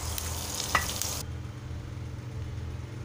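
Half a finely chopped onion hitting hot oil in a pan gives a dense, hissing sizzle for about a second, then drops to a quieter low background hum with no talking.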